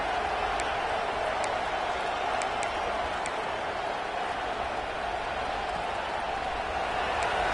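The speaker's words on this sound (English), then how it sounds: "Decibels rising as the crowd gets behind this defense on 3rd down." Stadium crowd roar at a college football game as fans get loud for the defense on third down, a steady, dense wall of distant cheering with no break across the span.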